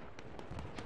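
Artillery shells strike in the World War I shooter Battlefield 1, a quick run of four muffled booms landing close together.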